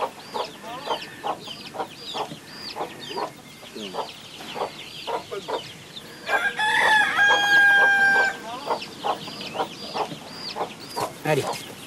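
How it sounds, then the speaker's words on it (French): A rooster crows loudly and close by in the middle of the recording, set among steady, rhythmic clucking from farm chickens that continues throughout. "il est magnifique, tu vois, ce coq-là"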